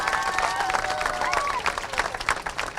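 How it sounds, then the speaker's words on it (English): Crowd at a Cops for Kids with Cancer event claps and cheers for a boy recovering from cancer, lively close applause with a few whoops and voices over it. "How about a big round of applause for Brodie?"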